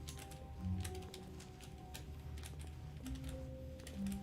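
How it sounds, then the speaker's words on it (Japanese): Keyboard keys clack in quick, irregular bursts during PC gameplay of The Stanley Parable, faint and close-miked over a low steady hum and occasional soft tones. "キーボードのカチャカチャ音ぐらい"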